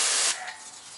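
Auto Fanatic wheel cleaner sprays onto the front rim and tire of a lifted GMC Sierra 1500 in one close, loud hissing burst that cuts off and leaves a faint fading hiss.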